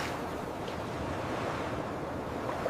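Open-sea ocean waves in a continuous broadband roar with wind rumble, steady and close, with no distinct individual wave breaks.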